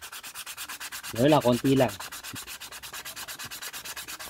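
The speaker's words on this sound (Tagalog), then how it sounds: "lihain nyo lang ng 800 na liha." Rapid rhythmic scratching of 800-grit sandpaper rubbing back and forth at a steady pace on a motorcycle front brake caliper, briefly interrupted by a short spoken remark.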